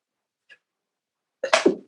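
A single sharp human sneeze, close and loud, preceded by a faint brief intake, with quiet stillness before it.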